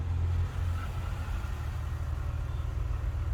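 A car engine hums low and steady as the car sets off for a drive, a close constant rumble with no voices.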